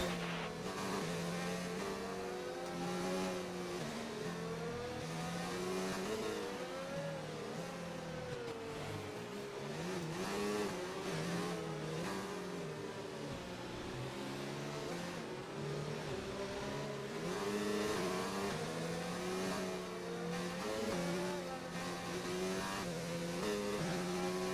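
Formula One race car engines in the F1 2019 video game whine continuously at low speed behind the safety car, the pitch rising and falling gently with each gear change over a steady drone.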